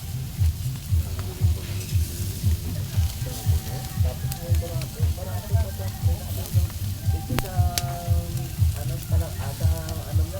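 Milkfish (bangus) grilling over heat, a steady close sizzle and crackle with rhythmic low thumps running underneath, plus scattered clinks; voices murmur faintly in the background at an outdoor Christmas party.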